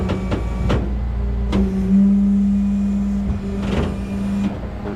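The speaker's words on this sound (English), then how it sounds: "so I'm gonna roll the bed back here" A tow truck's flatbed rolls back with a steady hydraulic whine and motor hum, punctuated by a few metallic clunks and knocks, close and fairly loud.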